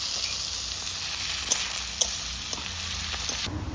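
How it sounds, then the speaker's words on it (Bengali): Chopped onions fry in hot oil with dry red chili and bay leaves, a loud constant hiss from close by with faint stirring taps now and then. "পেঁয়াজ কুচি, পেঁয়াজটা সুন্দর করে ভেজে নেব আগে লাল লাল করে"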